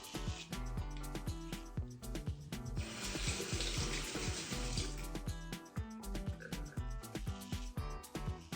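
Razor blades of a GilletteLabs Exfoliating Bar Razor rinsed under a running tap, with steady splashing water and intermittent clicks and knocks as the razor is tapped and moved in the stream.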